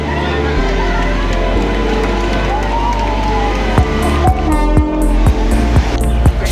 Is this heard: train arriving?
yes